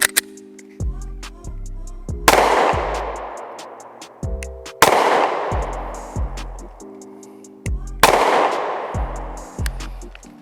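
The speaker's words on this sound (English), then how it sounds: "we're gonna see with 5 rounds at 10-yard line, see where it hits" Pistol shots fired at a 10-yard line while zeroing a Sig red dot sight: three loud, sharp reports a few seconds apart, each with a long ringing decay, among faint clicks and ticks.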